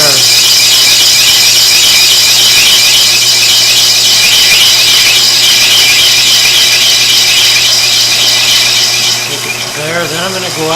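A metal-cutting tool machining an engine greaser part for the Spirit of St. Louis gives a loud, sustained high-pitched squeal that holds steady for most of the stretch, then breaks off into quieter chatter near the end.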